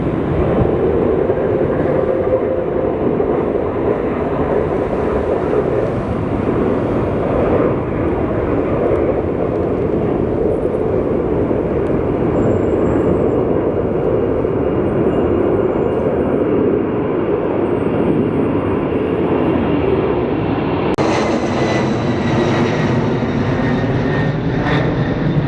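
Old jet airliner rotating and lifting off the runway at LAX, a loud continuous engine roar held steady throughout, with a sharp rise in high whine toward the end.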